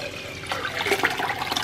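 A measured amount of water is poured into a cooking pot for making vadagam, a brief splashing pour lasting about a second.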